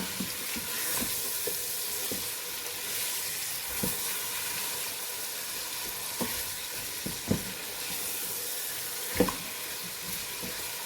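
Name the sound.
roasting spices and chicken in a pan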